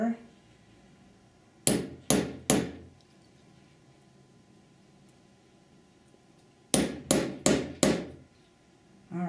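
A hammer drives a nail setter into a jewelry rivet in two close bursts, the first of three sharp taps and the second of four, each a crisp metallic strike, with quiet pauses between the bursts.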